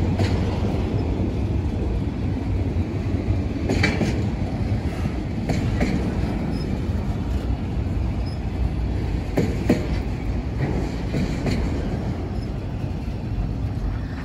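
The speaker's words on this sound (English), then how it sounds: "I think that train is about to slow down." A freight train rolls steadily past a trackside spot in Rosenberg, Texas, slowing down, with dense low rumble, scattered clicks and faint squeals from the wheels throughout, loud and continuous with no talking.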